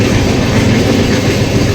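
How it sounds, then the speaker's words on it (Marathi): A passenger train on the ride home from a Vaishno Devi pilgrimage, heard from inside as a loud, steady rumble and rattle with no pauses. "आम्ही फायनली आता घरी चाललो आहे ट्रेनने"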